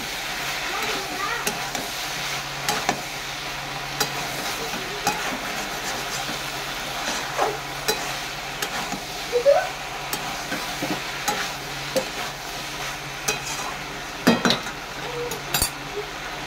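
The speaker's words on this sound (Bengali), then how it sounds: "কষে নেব। কষতে থাকবো।" Okra and prawn curry with turmeric sautéed in a pan, with steady sizzling and frying under repeated scraping and clinking of a spoon stirring against the pan, some strokes louder than others; no talking heard.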